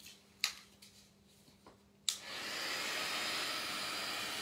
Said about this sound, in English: Heating it with the heat tool dries it off a bit as well.